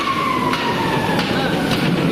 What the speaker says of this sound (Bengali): এই ট্রেনটা আবার আসছে